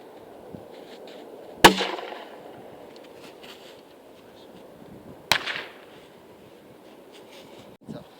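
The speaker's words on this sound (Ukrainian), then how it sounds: "яким чином буде відбуватися постріл страйкбольного гранатомету, наприклад, РПГ-22" Two sharp, loud bangs a few seconds apart from a low-power airsoft RPG-22 grenade launcher, each ending in a short crackling tail, over quiet background noise.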